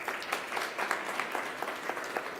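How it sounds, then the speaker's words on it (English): Moderately quiet applause from an audience at a digital and technology week session honours the presenter Sharon, a dense, even patter of many hands clapping throughout. "A round of applause for Sharon."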